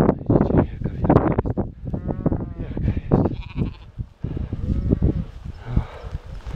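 Large sheep bleat repeatedly at close range in a high mountain pasture. The calls are loud and wavering and overlap one another, while a person talks over them.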